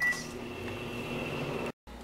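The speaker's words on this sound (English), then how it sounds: "Now we are going to melt this in the microwave for 30 seconds." A microwave oven runs with a steady, even hum and faint fan whir, melting an ingredient for 30 seconds, then cuts out briefly near the end before resuming.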